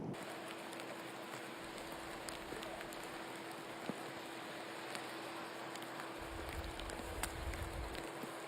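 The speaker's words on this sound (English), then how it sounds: "the soothing sound of the rain" Steady rain falls on a golf course during a women's professional tournament round, a continuous soft hiss with occasional drop ticks, even and unbroken, with no voices.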